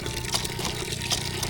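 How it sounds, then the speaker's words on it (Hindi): Village children fill containers with water from a hand pump, a steady pouring splash with faint rhythmic surges, close and fairly loud, no speech. "गाँव के बच्चे पानी भर रहे हैं।"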